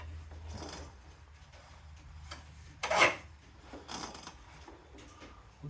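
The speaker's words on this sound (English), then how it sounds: "Brake rubbing." A brake on a Honda C70 motorcycle rubbing against a bolt gives faint, intermittent scraping rasps, one louder scrape standing out in the middle of a quiet garage.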